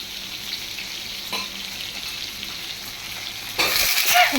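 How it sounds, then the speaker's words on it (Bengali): Fish, a catla for curry, frying in a pan beside a simmering vegetable pot, giving a continuous close sizzle with occasional stirring scrapes and a louder, crackling burst near the end. "আমি এক পাশে মাছ ভাজা হয়ে যাচ্ছে"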